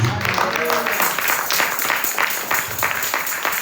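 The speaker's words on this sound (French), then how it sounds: "Acclamez très très fort Jésus" A congregation at a prayer day service applauds and cheers for Jesus, a sustained wash of clapping hands and raised voices from a full room.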